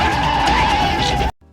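A car speeds away from a supermarket in a film scene, its tires screeching loudly and continuously up close before the sound cuts off abruptly.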